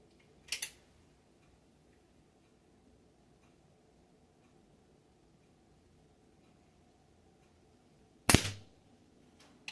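Two sharp, dry pops from a Umarex Ruger Mark IV .177 air pistol firing at a target, one near the start and one close to the end, separated by a long stretch of quiet low background rumble.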